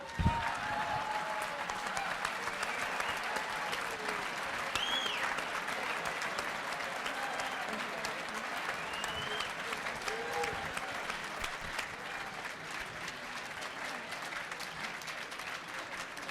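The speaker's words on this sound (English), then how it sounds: "now he got the applause just because he listened to his wife, right?" Audience applause at a conversation event with Republican governors, a long, steady patter of clapping that fades slowly, with faint whoops and voices scattered through the crowd.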